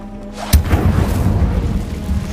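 The Incendio fire spell in Hogwarts Legacy lands as a single sharp, loud blast that rolls into a low, rumbling roar trailing off over the next two seconds.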